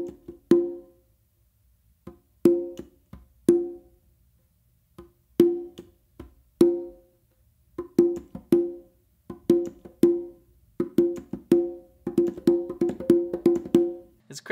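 Congas play a modern funk groove, a syncopated run of ringing open tones and quieter muted slaps and taps that grows denser toward the end, close and clear with no talking.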